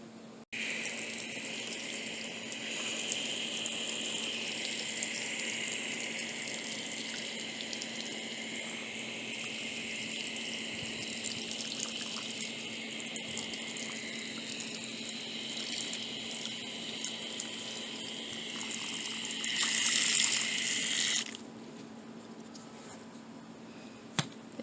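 Steady hose water spraying into a stream, used to flush out and cool a plant pot, runs as a continuous broadband hiss for over twenty seconds, briefly louder near the end before stopping abruptly.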